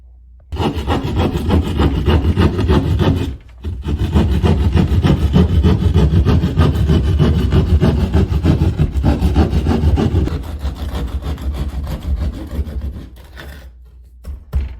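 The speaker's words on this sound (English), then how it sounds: "Then I'm just going to take a utility saw, this utility saw, and just cut that all out." A handheld utility saw cuts through a tile backsplash wall in a repair job, giving a loud, steady rasping and scraping stroke close by that runs almost nonstop, with one brief pause early on and a tapering finish.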